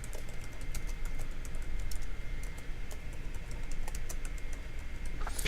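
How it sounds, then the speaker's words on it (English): Steady clicking of computer keyboard keys being typed on continuously, close and fairly loud over a low background hum, with no talking. "just press return and keep typing"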